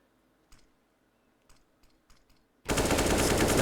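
A few sharp clicks sound quietly in a Counter-Strike match on the Inferno map, then a sudden loud, dense burst of gunfire takes over to the end.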